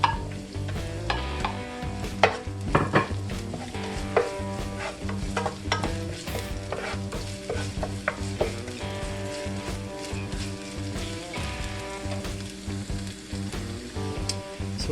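Garlic and onion being stir-fried for Chinese fried rice: a busy sizzle with frequent sharp stirring clatters, set against a steady tonal background hum throughout.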